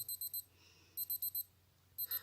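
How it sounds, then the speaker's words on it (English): A Casio G-Shock GD-100 digital watch sounds its countdown timer alarm in quick bursts of four high, sharp beeps, repeated in a steady pattern with brief pauses between groups. "When the end of the countdown time is reached, the alarm sounds for 10 seconds until you stop it by pressing the any button."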